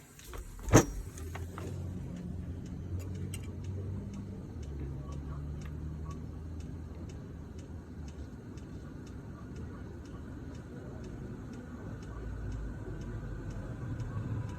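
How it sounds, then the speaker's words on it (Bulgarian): An Eberspacher D5W diesel heater fitted in a Mercedes Sprinter or Vito van starts up quietly, with a sharp click early on, then a steady soft hum and a regular faint ticking throughout. "Малко ще завърти вентилатора."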